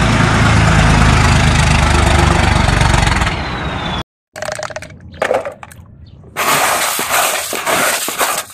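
A toy garbage truck gives a loud, steady engine rumble up close, which breaks off abruptly and then comes back in choppy bursts.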